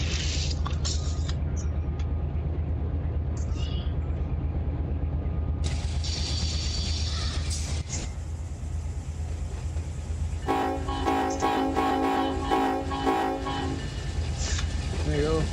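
A freight train in the RUN8 simulator rolls slowly at about 20 mph toward a summit, with a steady low rumble and clatter throughout and a loud horn sounding in several bursts near the end.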